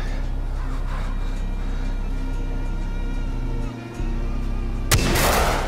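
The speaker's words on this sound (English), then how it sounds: "Come here, let me shoot you." Video game gunfire with a loud burst near the end, over a steady engine-like rumble and continuous background noise, with a brief dip in the low end just before the shot.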